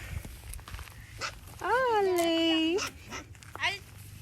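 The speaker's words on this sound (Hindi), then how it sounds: "ये कितने प्यारे प्यारे डॉगी हैं।" Puppies whimpering and yelping close by, with a long drawn-out whine in the middle and shorter high cries around it, while people talk over and between the sounds.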